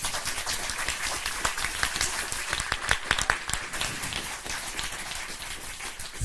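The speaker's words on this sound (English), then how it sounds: "Can we give a round of applause?" Audience applause after a public lecture, a dense, even wash of many hands clapping at moderate level throughout, with no one speaking over it.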